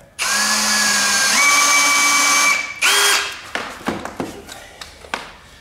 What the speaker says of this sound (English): So I'm going to put a screw in just there.